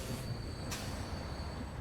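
A food train pulls into a station in the rail game Transport Fever 2, making a steady rumbling roll with a thin sustained wheel squeal and a brief hiss, with no one speaking.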